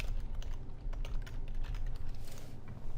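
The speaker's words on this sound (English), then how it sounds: "then you will type in your username and your password." A computer keyboard clicks close and steady for the whole stretch as a username and password are typed at a login screen, quick irregular keystrokes with brief pauses between bursts.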